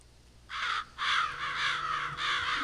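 Crows in the game Psychonauts caw loudly and close, a short harsh call followed by a longer run of overlapping raspy caws, with no one speaking.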